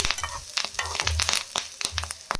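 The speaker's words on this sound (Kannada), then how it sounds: "ಮತ್ತು ಇದು ಕರಿಬೇವಿನ ಸೊಪ್ಪು ನೋಡಿ, ಇದನ್ನು ಚೆನ್ನಾಗೇ ಫ್ರೈ ಮಾಡಬೇಕು. ಕಮ್ಮಿ ಉರಿ ಇಟ್ಕೊಬೇಕು, ಸಣ್ಣ ಉರಿಲೇ ಉರಿಬೇಕು." Curry leaves fry in hot oil on a low flame, giving a steady close sizzle with sharp crackling pops and spits scattered throughout.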